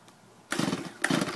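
A small engine on full choke gets pull-started: a short quiet pause, then a sudden burst of rough sputtering that dips briefly and catches again, loud and close.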